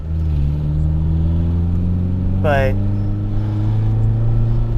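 A 1989 Honda Prelude engine idles steadily with a low, even hum, and a brief voice cuts in partway through.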